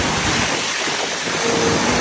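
Steady roar of large waves on Taal Lake churning against the shore, loud and continuous with gusty wind noise buffeting the microphone.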